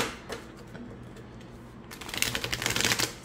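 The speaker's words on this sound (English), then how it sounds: "let's see how this deck shuffles" A tarot card deck, still slightly stiff, riffles together in a quick, crisp fluttering burst near the end, after a few softer handling sounds.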